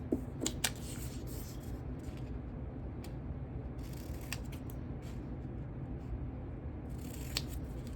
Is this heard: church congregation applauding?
no